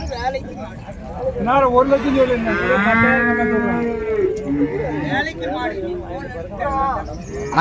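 Cattle moo loudly and repeatedly at a cattle market in Uthangarai, Krishnagiri, long drawn-out lowing calls close by, with people talking in the background throughout.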